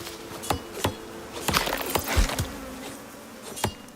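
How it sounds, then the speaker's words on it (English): Buzzing bees in the video game Icarus drone faintly under a series of sharp, irregular clicks and taps, with no voices present. "I hear bees."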